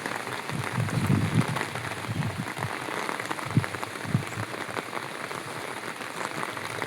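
Heavy rain pours steadily outdoors near the meeting of the Janji and Mitong rivers, a dense, even hiss with scattered louder drop impacts, and no voices.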